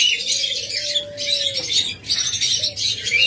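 Lovebirds and cockatiels call inside a crowded bird shop, a dense, loud wash of chirps and squawks with a longer whistled note, steady and close throughout.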